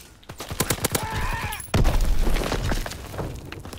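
Gunfire in the World War II shooter Call of Duty: WWII: rapid bursts of shots followed by a heavy boom, with continuous loud battle noise after it.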